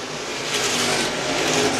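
A 350 Supermodified race car roars down the front straightaway at Star Speedway during a feature race, a loud, steady, high-revving engine howl that stays strong and continuous throughout.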